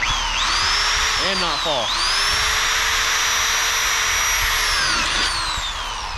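A power drill whines loudly as it bores holes for a drop visor on a cabover truck cab, the pitch rising and falling across a few bursts. Someone speaks briefly over it.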